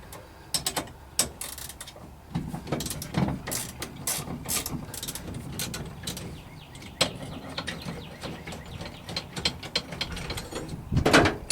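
A ratchet wrench clicking away at a brake pedal bolt under the dash of a 1985 Chevy K10 pickup, quick bursts of close pawl clicks with pauses, ending in a louder clatter.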